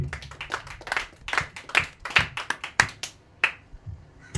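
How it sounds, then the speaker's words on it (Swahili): Church congregation clapping hands in praise during a Swahili sermon, a loose burst of sharp, uneven claps from several people, fairly close, with a faint voice underneath. "wapigie Bwana makofi mazuri"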